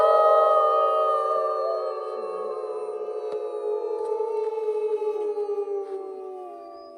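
A person imitating a wolf howl at a northern zoo in winter, one long sustained tonal howl that slowly falls in pitch and fades at the end, loud and close.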